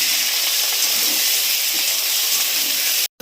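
Chili paste of ground dried and fresh green chilies sizzles in a hot pan for a fish curry with eggplant, a steady loud hiss held throughout, cut off abruptly at the very end, with no talking.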